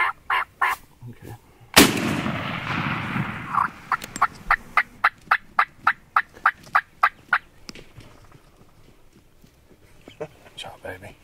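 A wild turkey gobbles repeatedly in a rapid series of sharp calls, preceded by a loud gunshot-like crack and some quiet talking.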